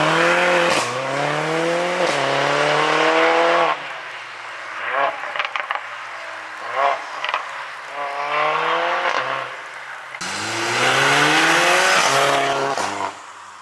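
A 440bhp Mercedes A45 drives hard, its engine climbing through repeated rising revs with gear changes, then dropping to a lower burble before surging loudly again, close and continuous throughout.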